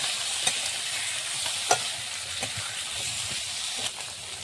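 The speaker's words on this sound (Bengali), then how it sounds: "তরকারিটা আমার কষা হচ্ছে" Masala and potatoes for a shol fish curry sauté in a pan with a constant bright sizzle, punctuated by a few sharp knocks and scrapes of the stirring spoon.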